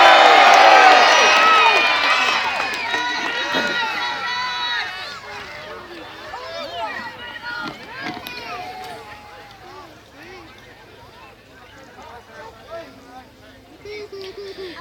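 Outdoor crowd at a Battle of Bannockburn reenactment shouting and cheering for Robert the Bruce. Loud massed voices at first, fading over several seconds into scattered calls and murmuring chatter.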